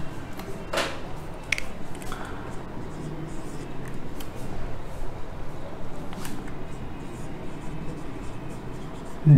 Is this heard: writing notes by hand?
yes